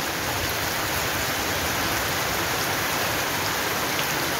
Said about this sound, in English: The rain has fall,